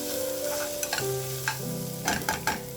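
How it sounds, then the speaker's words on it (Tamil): Onions and curry leaves fry in a little oil, giving a steady close sizzle with sharp stirring scrapes and clicks from a spatula, and a low hum underneath. "வெங்காயம் கொஞ்சம் வெந்து நல்லா கலர் மாதிரி வரணும்"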